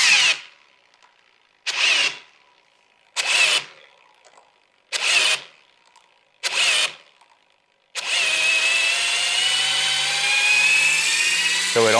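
A power tool (an impact or drill driver) loosens an over-torqued lug on a Porsche GT4 RS magnesium wheel, with five loud, close whirring bursts in a regular rhythm, then one long continuous straining whine.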